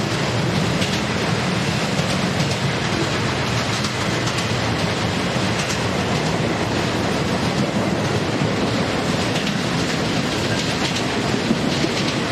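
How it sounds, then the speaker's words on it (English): A BNSF piggyback freight train rolls past in Rochelle, its wheels clattering in a steady clickety-clack over a continuous loud rumble, with no voices. "We start our trip down memory lane with this unknown BNSF piggyback train."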